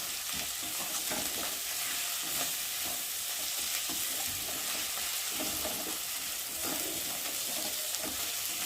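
Chicken masala with tomato is sautéed in a pan for chicken kosha, making a dense, steady sizzle with soft stirring scrapes throughout, close and unbroken.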